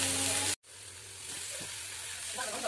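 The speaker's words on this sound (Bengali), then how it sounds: "চলো দেখি ভাজাটা কতদূর হলো।" Fish sizzling as it fries in oil in a pan, a steady broadband hiss that cuts out briefly near the start, then resumes at a moderate level with faint bubbling pops toward the end.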